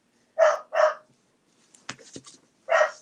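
Rosie the dog barks at someone walking their dog past in the morning: two sharp, close barks, a pause with faint scuffing, then a final bark, with no other voices.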